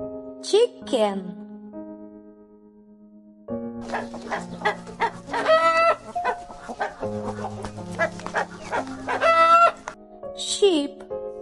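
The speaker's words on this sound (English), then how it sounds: "Chicken." A rooster crows near the start and again at the end, while a chicken clucks in quick, uneven bursts through the middle, all close and loud over a soft steady background tone.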